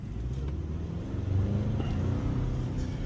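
Toyota Tacoma pickup engine in sport mode, a steady low growling rumble heard from inside the cab while driving, swelling slightly louder midway and holding there.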